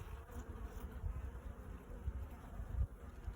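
Bees buzzing steadily around an open beehive during an inspection, a dense close droning hum with no talk.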